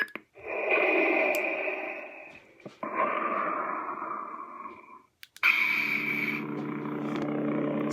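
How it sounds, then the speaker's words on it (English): Darth Vader breathing effect from a lightsaber sound font: slow, heavy mechanical breathing, a long hissing inhale then exhale, repeated with brief gaps, close and loud like a masked respirator. "The other font is Dark Meat with custom Vader breathing sound."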